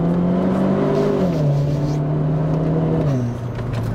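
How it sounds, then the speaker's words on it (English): A Renault Clio RS hatchback engine revs and pulls hard, the tone rising then dropping with each gear change, loud and close, with no talk over it. "they sound great"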